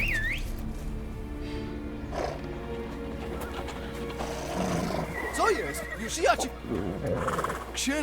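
Horses whinny and neigh in the video game The Witcher 3: Blood and Wine, several rising, squealing calls over hooves and a low rumble, with voices talking around them.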